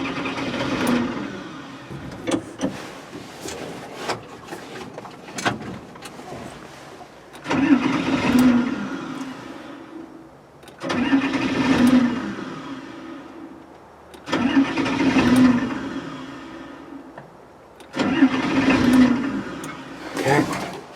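Link-Belt 2800 excavator diesel engine with a hard-start fault cranking repeatedly, four separate grinding starter bursts of a few seconds each with pauses between, the engine never catching, close and loud.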